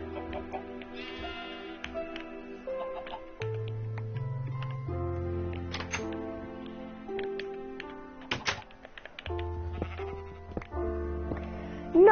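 Sheep bleating in a video game farm alongside chickens and a cow, heard amid layered tonal game music and ticking clicks, with a few short bleats standing out over the steady background.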